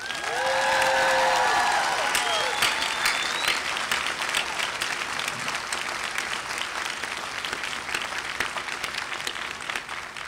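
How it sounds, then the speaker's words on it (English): Large crowd at a university graduation ceremony bursting into sustained applause and cheering, dense clapping filling the hall and holding steady after a brief tone at the start. "Let's give them a real cheer."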